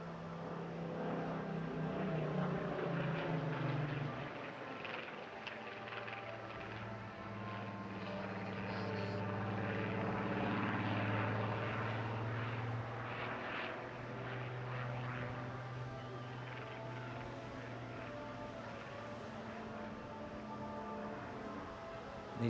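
Propeller aircraft flying at the Bournemouth Air Festival 2023, a steady droning engine note holding at moderate loudness and swelling slightly mid-way, with no talk over it.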